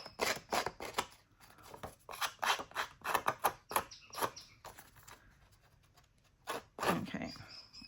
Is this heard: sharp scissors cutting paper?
yes